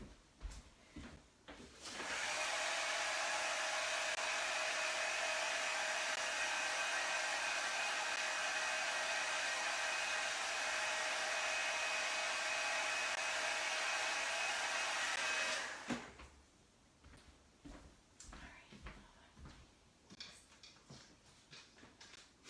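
A craft heat tool blows hot air to set craft ink on stamped paper, a steady, loud, hair-dryer-like whoosh that runs unbroken for about thirteen seconds before cutting off, with faint handling noises before and after.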